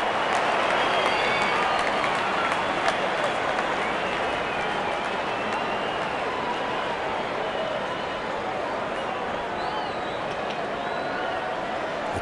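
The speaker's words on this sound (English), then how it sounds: "The crowd is enjoying every bit of this action." Spectators at an India versus Bangladesh T20 World Cup warm-up cricket match cheer and applaud in a loud, continuous wash of clapping and crowd roar that eases slightly toward the end.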